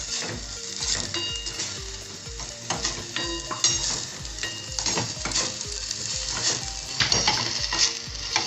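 Fish frying in oil in a pan, a close, loud, continuous sizzle with scraping and clinks of a utensil against the pan throughout.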